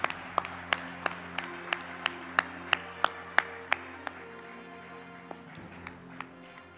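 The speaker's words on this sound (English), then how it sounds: "I think this deserves a louder round of applause." At an awards event honouring work in girl child and women empowerment, one pair of hands claps in a slow, even beat, about a dozen crisp claps close by that thin out and trail off over a low hum.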